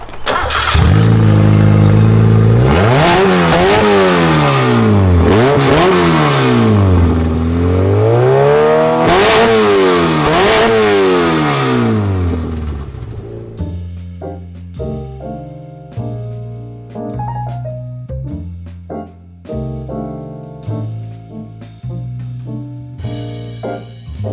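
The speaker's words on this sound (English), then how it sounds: "It's a very mild motor, only 800 horsepower." An 800 horsepower muscle car engine revs hard and loud up close, rising and falling in two big sweeping pulls, then settles into a lumpy, choppy idle with uneven throttle blips.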